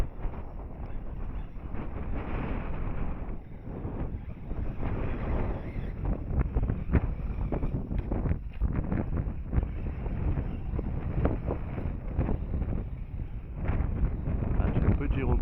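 Steady wind rushing and buffeting against a microphone, constant and loud throughout, with faint speech underneath.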